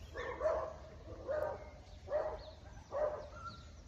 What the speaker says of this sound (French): les petits chiens aboient, c'est pas les miens